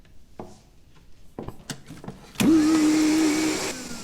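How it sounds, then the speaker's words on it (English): A household vacuum cleaner switches on partway through with a loud, steady whine and roar that continues to the end, preceded by a few scattered knocks and bumps. "you should give the vacuum a rest."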